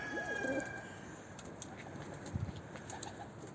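Soft pigeon cooing, a low throaty call near the start, with faint outdoor background noise throughout.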